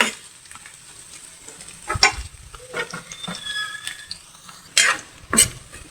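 Garlic sizzling in cooking oil in a pan until golden brown, a soft steady fry broken by a few sharp clinks and scrapes of a utensil stirring, with two louder bursts near the end.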